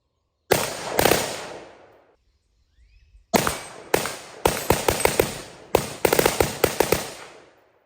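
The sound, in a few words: Triarc TSR 15 rifle bump firing rapid shots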